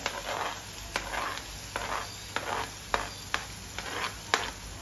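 Onions sautéing in a pan as chopped capsicum is added make a soft, steady sizzle, broken by regular spatula scrapes about once a second.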